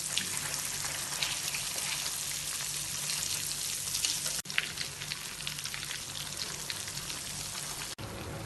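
Fish frying in oil in a pan: a loud, dense, rain-like crackle that continues steadily, broken by two brief cuts, with no one speaking.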